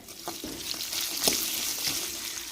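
Chopped onions go into hot oil with curry leaves and dried chilies in a pan for brinjal tamarind curry, giving a soft steady sizzle with a few light stirring taps.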